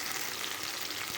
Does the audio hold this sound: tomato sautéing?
yes